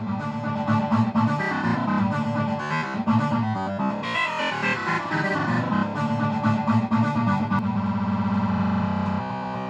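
Roland TB-3 synth played with scatter modulation, a loud, dense, distorted run of stuttering notes that keep shifting and breaking up, alone with no talk.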